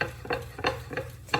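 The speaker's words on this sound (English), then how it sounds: "give it a good whisk and incorporate all our ingredients" Butter and cake ingredients whisked together in a mixing bowl for an apple streusel cake, giving four quick scraping strokes close by with no talk.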